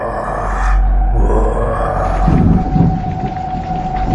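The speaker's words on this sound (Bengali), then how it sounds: "ঝিরি ঝিরি বৃষ্টি এখন কিছুটা জোরে পড়তে শুরু করেছে।" Steady rain sound effect for a night-time horror story set in a graveyard, a dense hiss over a deep rumble like distant thunder, swelling slightly midway and continuing without voices.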